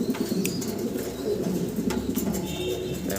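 Pigeons coo softly and steadily at a breeder's farm, their low rolling calls overlapping with occasional chirps and faint rustling in the background.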